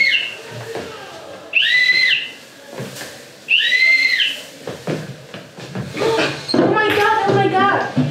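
Two bright, rising shrill whistle blasts a second apart, then clattering, banging, and muffled voices with more squeaky tones near the end.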